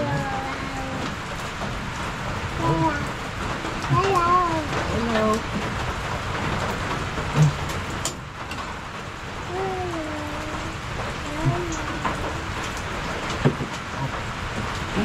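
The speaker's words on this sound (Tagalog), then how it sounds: "lumalakas na naman ang ulan" Heavy rain pours in a continuous close hiss behind a casual outdoor scene, while people talk and call out over it with a few sharp knocks and clatters.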